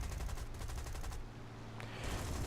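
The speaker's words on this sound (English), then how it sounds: "there goes the last of my cannon ammunition" Rapid aircraft cannon fire from a D520 fighter in War Thunder, a dogfight against an I-15, sounding as a loud dense burst over engine drone that cuts off midway, then a brief sharp crack near the end.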